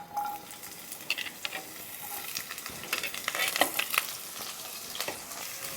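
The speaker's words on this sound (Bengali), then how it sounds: "আলুগুলোকে আমি লাল লাল করে ভেজে নেব" Steady crackling sizzle of potatoes frying in hot oil with nigella seeds, with light spattering pops throughout and no voices.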